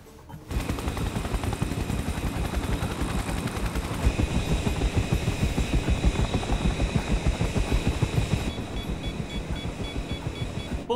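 A helicopter thunders close and loud, its rapid rotor chop forming a dense, continuous pulsing roar that holds steady for the whole stretch with no talk over it.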